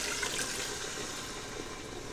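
Two cups of water poured steadily into a pot of pumpkin soup, a continuous splashing, rushing flow that stays even and fairly close, with no talking.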